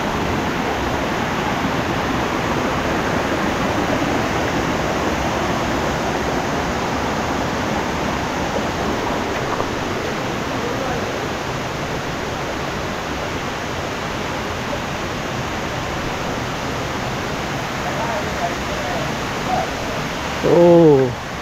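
A distant waterfall on the Rondoyok trail near Thanchi, Bandarban, heard as a steady, even broadband rush that holds unchanged for about twenty seconds, with a brief louder bump near the end.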